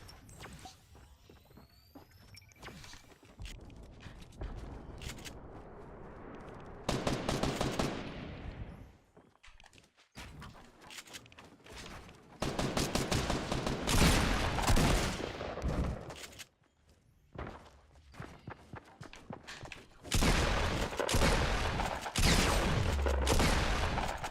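Repeated shotgun blasts from double pump shotguns in the video game Fortnite, loud bursts in clusters with brief pauses, mixed with in-game footsteps and other game effects.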